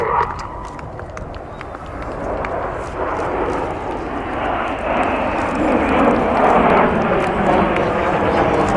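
Red Arrows display jets roar overhead in formation at the Cosford airshow, a loud, sustained engine rumble that swells toward the end, with a public-address commentator talking over it.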